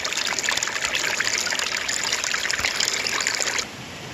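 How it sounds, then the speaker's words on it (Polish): A small mountain stream trickles steadily along a trail on Barania Góra, close and continuous with bright splashing, then drops to a softer, quieter flow near the end. "w końcu na trasie spotykam jakiś strumyk, gdzie będzie można w końcu obmyć sobie twarz i ręce"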